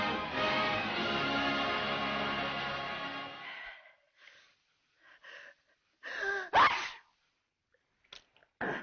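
A single sharp sneeze bursts out close by in a quiet room during a 1939 film scene, following a stretch of lively music and a few soft breaths, with a small click afterward.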